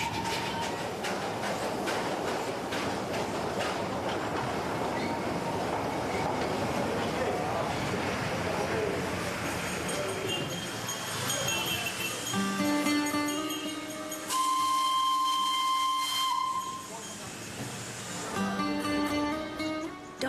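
Hill train climbing toward Darjeeling, its wheels clattering steadily over the rails with a rushing carriage rumble, then a long, loud tonal steam whistle sounds in the latter half, followed by further clattering.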